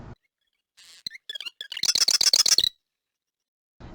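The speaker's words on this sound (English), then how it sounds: "The second most common birds were marsh wrens." A bird song opens with a few scattered buzzy notes, then breaks into a rapid, rattling trill of repeated notes, clear and close.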